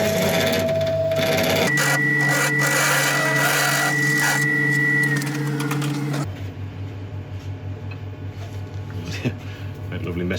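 A woodturning lathe taking a pass across shiny aluminium stock makes a droning hum with a rising tonal whine and scraping, which shifts partway through to a lower, rougher cutting rumble with uneven texture.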